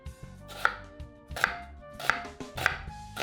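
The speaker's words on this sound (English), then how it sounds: "So we're just going to chop this up and see how much we have." A knife chops onion for pico de gallo on a cutting board, with four crisp, evenly spaced chops close up and no talking.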